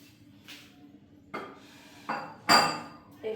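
Goat meat, about 1.5 kg, is dropped into a wok while cooking, giving a few separate metallic clatters and scrapes. Soft thuds come first, then louder clinks near the end, close up with no talking.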